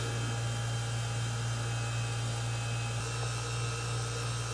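HVAC vacuum pump evacuating the refrigerant lines after an AC compressor change-out, a steady droning hum with constant broadband hiss running unbroken throughout, close and alone with no talk.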